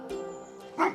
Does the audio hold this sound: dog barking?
yes